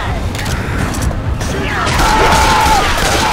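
Gunfire in the zombie shooter game Left 4 Dead 2: dense, continuous bursts of shots and clatter over busy in-game noise, with players talking throughout.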